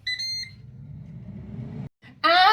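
A Ninja Dual air fryer gives a short series of clear electronic beeps after start is pressed, followed by a low fan hum and then a louder burst of tones at the end.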